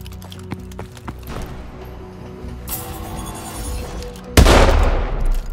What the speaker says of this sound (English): to practice with the Atlas Sniper in the firing range